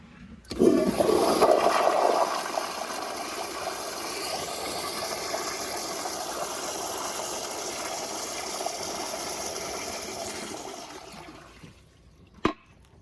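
A fully restored 2016 Toto CT705 toilet on 40 PSI at full pressure flushes a washcloth and grocery bag, a loud close rushing flush that swirls steadily for about ten seconds and ends with a sharp clack.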